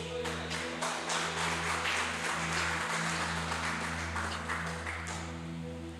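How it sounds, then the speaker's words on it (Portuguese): A church congregation gives a round of applause to God, clapping steadily for several seconds over a sustained keyboard drone that hums beneath the crowd. "E só você que crê, dê um aplauso ao nosso Deus."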